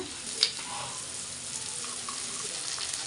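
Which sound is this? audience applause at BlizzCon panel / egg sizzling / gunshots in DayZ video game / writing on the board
egg sizzling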